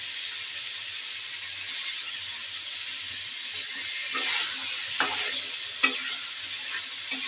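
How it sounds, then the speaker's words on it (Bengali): Fish sautéing in a pan with steady sizzling and frying hiss, stirred now and then with a few sharper scraping knocks, close and continuous with no talk. "ভালো করে মাছটা কষিয়ে নেব"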